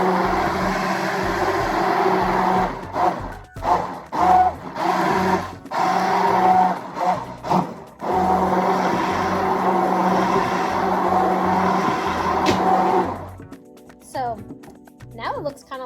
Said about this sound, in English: I actually prefer using an immersion blender because I feel like I can get all the stuff from the bottom